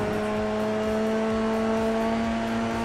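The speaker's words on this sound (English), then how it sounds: "It's the noise of them on the limiter as well at the end of the straight" A Formula 3 car in a sim racing game screams flat out along a straight, its engine holding a steady high-pitched drone as if pinned against the rev limiter, loud and continuous with no talk.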